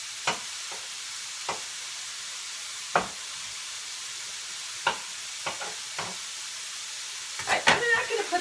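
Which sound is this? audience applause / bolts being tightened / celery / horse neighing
celery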